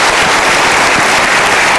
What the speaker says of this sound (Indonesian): kita berikan tepuk tangan untuk mereka